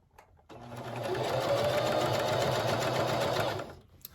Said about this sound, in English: And then I'm just going to go ahead and sew all the way around.